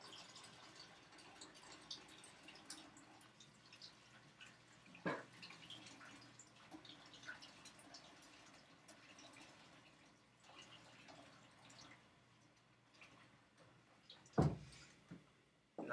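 Tap water runs steadily into a soapy mixing bowl left to soak, a faint continuous wash with a few louder splashes and clunks near the middle and end, and no talking.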